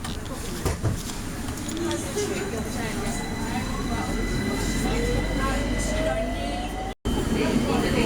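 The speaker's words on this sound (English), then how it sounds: "There's our underground train." A London Underground train rumbles along near Victoria station with rising and falling wheel and motor whines, a steady roar that briefly cuts out near the end.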